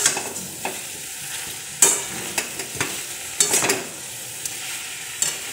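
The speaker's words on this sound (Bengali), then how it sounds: "চলো এবার মশলাগুলো মিশিয়ে নিই" Chicken stirred in a pan with spices and chili powder, with a soft sizzle under scattered scraping spoon strokes, a few louder, no voices.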